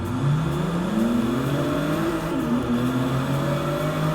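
A race car engine revs steadily through a lap in Forza Motorsport 6, a loud continuous drone with rising pitch sweeps as it accelerates and shifts through gears.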